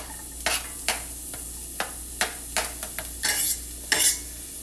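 Onion sizzling in a pan for vodka-free vodka pasta, with a soft steady fry under repeated scraping clicks of a utensil stirring against the pan, close and clear, no one speaking.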